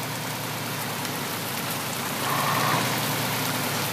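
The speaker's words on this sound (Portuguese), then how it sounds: "Que chuva é essa? Ah, eu detesto dirigir com um tempo ruim desse jeito." Steady rain drumming while driving a truck in Universal Truck Simulator, a constant dense hiss over a low engine drone, with no talk.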